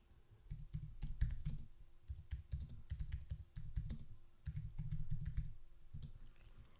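Someone types an email on a computer keyboard: quick, soft clicking keystrokes come in irregular bursts with short pauses between them, close and quiet in a still room.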